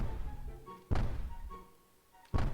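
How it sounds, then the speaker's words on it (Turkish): Bombs drop in Stumble Guys, two heavy, close thumps roughly a second and a half apart, each a sharp impact over a quieter background of game sounds. "Bomba atacaklar bize."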